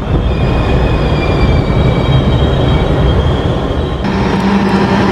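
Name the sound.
cement freight train departing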